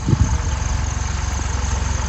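A tractor engine runs steadily on a farm field being prepared for sowing, a close, continuous low rumble with a throbbing idle-like pulse and no voices.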